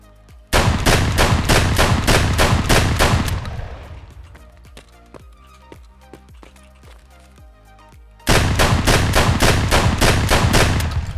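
Pump-action MP-155 Ultima shotgun blasting in Escape From Tarkov: a fast, loud run of evenly spaced shots, a quieter stretch of lighter clicks and mechanical handling, then another rapid burst of heavy shots.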